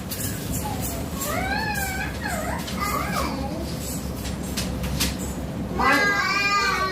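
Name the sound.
children imitating a dog barking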